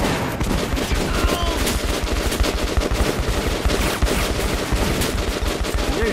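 Sustained automatic gunfire in the video game Metro 2033 Redux, a dense, loud, continuous burst of rapid shots with no pauses.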